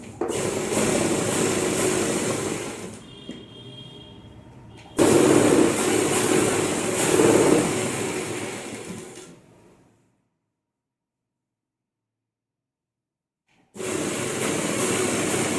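Sewing machine running in steady bursts while stitching the back seam of ladies' pants, loud and close, with a pause mid-way, a stretch of silence, then stitching resumes.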